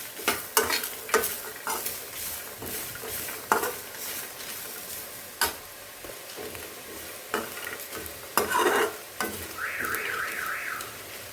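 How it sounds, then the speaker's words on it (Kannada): Freshly grated coconut fries in a pan for a methi gojju recipe, with a soft sizzle under repeated sharp scrapes and knocks of a spoon stirring against the metal. "ಹಸಿ ತೆಂಗಿನ ತುರಿನ ಹಾಕಿಬಿಟ್ಟು ಚೆನ್ನಾಗಿ ಅಂದರೆ ಅದರ ಹಸಿ ಅಂಶ ಹೋಗಬೇಕು ಅಲ್ಲಿವರೆಗೆ ಫ್ರೈ ಮಾಡ್ಕೊಡೋದು"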